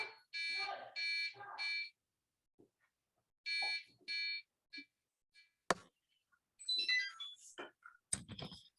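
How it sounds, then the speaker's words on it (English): An RC robot's controller sounds its no-signal alarm, a run of short electronic beeps in clusters separated by silent gaps, followed by scattered clicks, a sharp snap and brief indistinct sounds. "This is an alarm in the controller that tells you that the RC is off"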